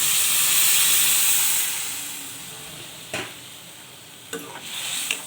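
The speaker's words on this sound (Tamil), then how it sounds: "இப்போ வாட்டர் ஆட் பண்ணிடுறேன்." Water is poured into a frying pan of broad beans being made into avarai poriyal, setting off a loud steaming hiss that slowly fades, then a few sharp clinks of a stirring spoon against the pan.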